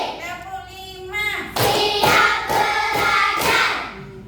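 A class claps hands together in a counted pattern, about five sharp, evenly spaced claps following a sung or called lead-in, with voices carrying over the clapping.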